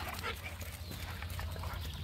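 Farm dogs active close by on a farm, with low rumbling, snuffling and movement noises running steadily throughout, loud and near, with no talking.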